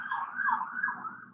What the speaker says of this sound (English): I'm sorry for the siren